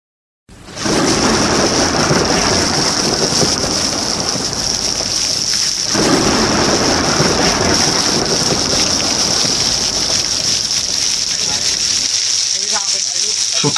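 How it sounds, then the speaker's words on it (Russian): Heavy tropical downpour roars steadily and loudly throughout, a dense continuous wash of rain with low rumbling undertones of thunder, pausing briefly near the middle before resuming at full strength. "Тропический ливень."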